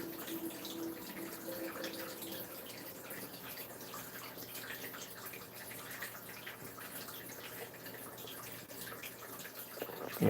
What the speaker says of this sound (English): that annoying sound you hear the water running, it doesn't usually sound like that. My fountain is drained